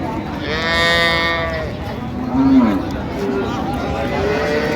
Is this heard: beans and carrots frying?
no